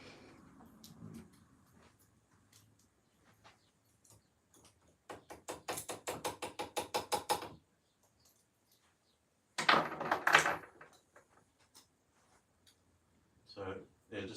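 Toyota Starlet spark plug tapped against the top of a vise to close its gap: a quick run of rhythmic metallic taps, then a louder short cluster after a pause, with quiet stretches between.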